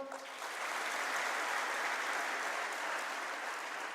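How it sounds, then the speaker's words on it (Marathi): Loud, dense audience applause at a live comedy show swells in quickly and holds as a steady, sustained roar of many hands clapping. "जोरदार टाळ्यावर एकदा डबल."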